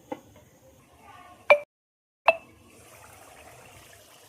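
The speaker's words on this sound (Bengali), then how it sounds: "ঝোল খুব ভালোভাবে ফুটে গেছে" Mustard-poppy fish curry broth boils in a covered pot, a few isolated sharp plops close by over a quiet, faint simmer.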